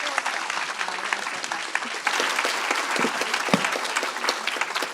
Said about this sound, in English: So let's give Mary a wonderful round of applause.